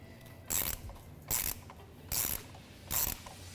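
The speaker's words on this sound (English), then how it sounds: "Let's use an 8mm socket and get them removed." Ratchet with an 8mm socket backing out fan shroud bolts on a 2007-2018 Jeep Wrangler JK, giving four evenly spaced bursts of rapid close clicking over a quiet background, with no voices.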